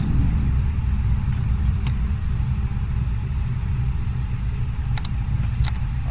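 Airliner thrust reversers roaring during landing rollout at London Gatwick in MSFS2020, a loud steady low rumble with a few faint clicks.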